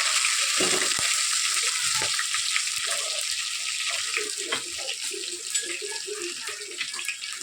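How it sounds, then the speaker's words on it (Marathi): Cumin seeds fry in hot oil with green chili, making a constant close hiss and crackle, with a few soft clinks and low stirring knocks mixed in. "त्यानंतर आपण टाकणार आहोत जिरे. हे छानसं फ्राय होऊन घेऊया."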